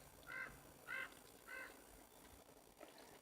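A crow caws three times in slow succession, distant and faint over a quiet hiss of outdoor background at a campsite in San Bernardino National Forest.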